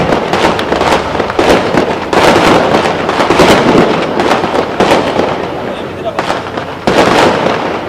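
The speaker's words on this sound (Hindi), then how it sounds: "क्यों पटाखे हो रहे?" Firecrackers burst in dense, continuous crackling volleys at an outdoor political rally, loud and close, filling the air with sharp pops that swell and ease in waves.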